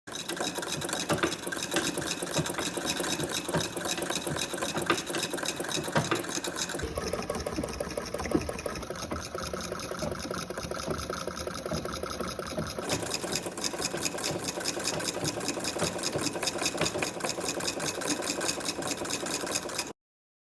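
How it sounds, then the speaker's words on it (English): A 151-year-old Wheeler & Wilson No. 1 sewing machine runs continuously with a rapid, even mechanical clatter, its cloth drive belt slipping, steady and close for about twenty seconds with no voices. "I finally have the machine up and running, and it is a little finicky, but it makes a beautiful stitch."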